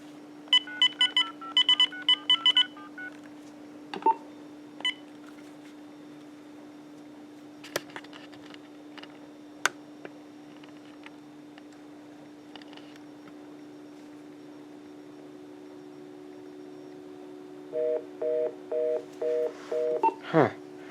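A Uniden EXS2080 900MHz cordless phone dials out, with a rapid burst of DTMF keypad tones over a steady dial tone, a few isolated beeps, then another evenly spaced run of tones near the end.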